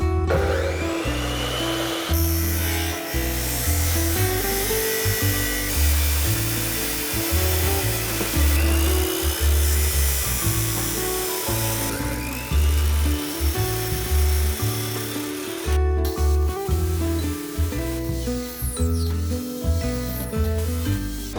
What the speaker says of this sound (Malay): saya start dengan potong semua si channel ikut ukuran yang saya dah design tadi